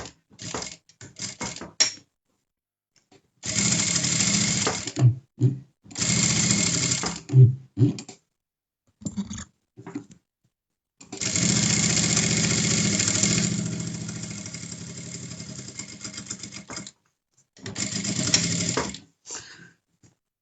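A sewing machine stitches fabric pieces for a face mask in several close, steady runs of rapid mechanical chatter, some short and one long, separated by silent pauses.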